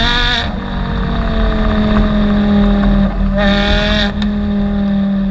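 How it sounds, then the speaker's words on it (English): A 2004 Porsche Carrera GT's engine revving: a loud, high-pitched mechanical wail that holds steady, swells sharply a few times, and dips briefly between revs, heard alone with no talk. "The Carrera GT is regarded as the best sounding car of all time."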